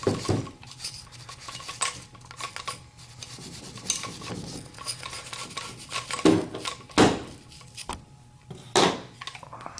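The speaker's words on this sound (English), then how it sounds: "Then we want to grab our brush and clean the trigger just a little bit." A small brush scrubs an AR-15 trigger group up close with quick, irregular scratchy strokes. Sharp metallic taps and clinks of parts are mixed in, and no one speaks.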